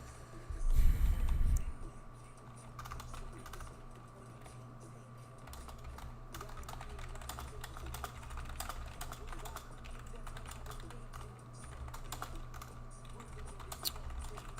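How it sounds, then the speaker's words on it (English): Someone types on a computer keyboard, producing soft, steady, irregular clicking that stays faint and close throughout, with a brief louder rustle and bump near the start. "I'm not talking much while I'm typing this out."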